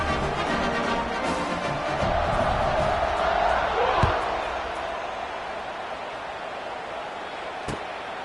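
Stadium crowd in the College Football 25 video game roars steadily in the background during a kickoff, a dense distant wash of cheering that swells slightly and then settles.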